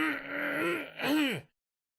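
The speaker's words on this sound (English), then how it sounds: "I clear my throat a lot" A man clears his throat into a live-stream microphone, two close, gravelly throat-clearing rasps in quick succession, then silence.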